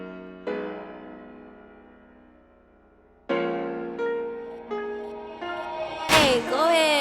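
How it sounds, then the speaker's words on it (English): A beat intro arranged in FL Studio opens with sustained piano chords over a bell pad, later joined by violins and more layered tones, building in stages with no drums and ending in a sweeping rising swell. "So it just starts off with that piano right there."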